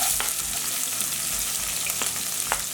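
Onion and curry leaves frying in oil in a pan for avarekalu uppittu, a steady close sizzle with occasional brief stirring scrapes and crackles, no talk.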